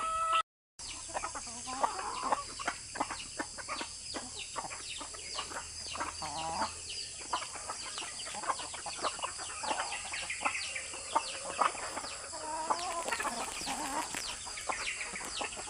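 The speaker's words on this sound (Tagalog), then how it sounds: "Muna tanan-tanan ang manok guys." Chickens cluck busily throughout, many overlapping calls near and far, with a steady hum in the background and a brief dropout near the start.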